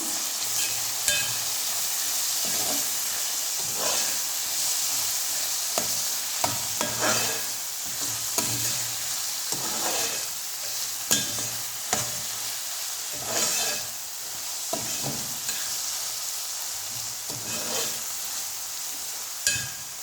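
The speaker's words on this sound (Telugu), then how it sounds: "వన్ టేబుల్ స్పూన్ పసుపు, వేసుకున్నాక వీటి మొత్తాన్ని ఒకసారి కలుపుకొని" Dry prawn curry with turmeric stirred in a pan over steady high frying sizzle, with repeated scraping strokes of a spoon against the pan, close and continuous for twenty seconds with no talking.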